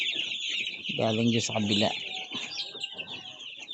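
Backyard chickens clucking and calling nearby, with a short loud burst of squawks, over a constant high insect-like background drone; a person speaks briefly.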